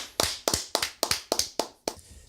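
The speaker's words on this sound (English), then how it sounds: "give us a round of applause for Elias Hightower" A round of applause for a guest, heard as about seven sharp, evenly spaced claps, close and fairly quiet, with no voices over them.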